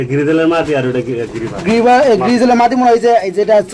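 Deshi Giribaz pigeons coo in deep, rolling, repeated phrases at close range, loud and continuous, with a person speaking over them.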